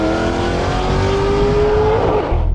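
A tuned Porsche 911 Turbo racing close alongside on a quarter-mile drag strip, a loud sustained engine roar with a rising tone that builds and then cuts off sharply near the end.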